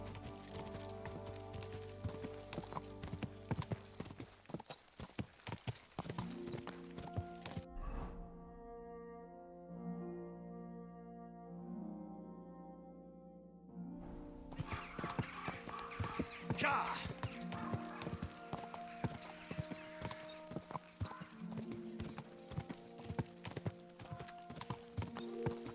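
Horse hooves clip-clop in Kingdom Come Deliverance 2, a brisk repeating beat close by over a low musical drone. It drops away for several seconds midway and then resumes just as steadily.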